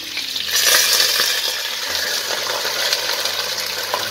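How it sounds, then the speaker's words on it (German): Steady sizzling and bubbling of meat braising in a kazan for a Russian potato stew, a continuous hiss with light crackles and faint stirring clinks, no voices. "Jetzt lassen wir das ein bisschen schmoren."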